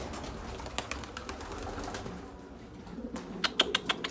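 Pet pigeons coo softly under a dense background rumble, then a burst of rapid wing flaps claps out close by near the end, with no talking.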